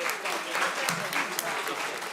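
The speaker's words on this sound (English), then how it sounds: "Give them a round of applause." Audience applause at a college quiz event in Bengaluru, a sustained burst of clapping from a crowd lasting a couple of seconds at moderate distance.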